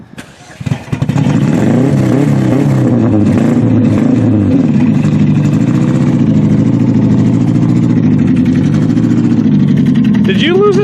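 A Chevrolet Cobalt that has lost a cylinder starts up and runs roughly, loud and close, its uneven, lumpy idle wobbling throughout, with a voice speaking over it.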